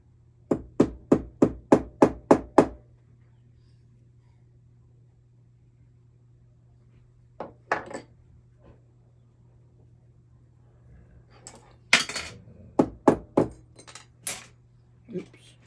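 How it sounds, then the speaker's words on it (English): A small hammer taps a metal ring seat ahead of soldering, first in a quick even run of about eight light metallic strikes, then in scattered taps and a final cluster, close and clear against quiet. "Hammer it down."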